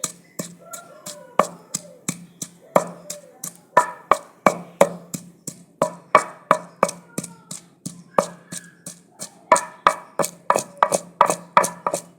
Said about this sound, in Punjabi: ਆਪਾਂ ਲਸਣ ਆਦਾ ਹਰੀ ਮਿਰਚ ਇਹ ਕੁੱਟ ਲਾਂਗੇ